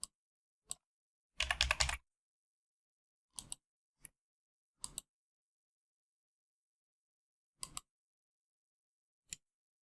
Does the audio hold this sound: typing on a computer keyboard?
yes